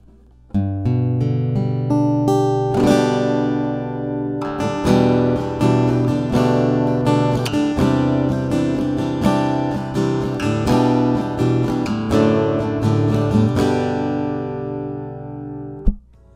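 Acoustic guitar played through a Blackstar Polar 2 two-channel audio interface, a full, continuous run of strummed chords and picked notes, close and loud, ending with a sharp click.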